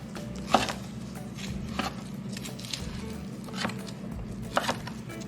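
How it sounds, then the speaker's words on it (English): A knife slices through a cooked pork chop into strips on a cutting board, giving several sharp, separate chopping taps spaced irregularly over a low steady background hum. "and then just cut into strips"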